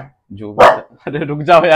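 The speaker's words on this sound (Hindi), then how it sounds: "पड़ोसी के कुत्ते भी भौंक रहे हैं" Dogs bark in short, sharp bursts close by, mixed with someone talking at the same time.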